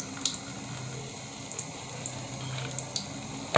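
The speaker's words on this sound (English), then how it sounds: "Let me drain out the water so I can use." Water drains from a sink after a hamster's bath, a soft steady gurgle with small trickling splashes and a louder slosh at the very end.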